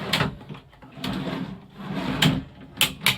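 Large storage drawers in a 2018 Bavaria I 700 C Class camper van are slid open and shut, with several sliding rumbles and sharp knocks as they close, close up and alone.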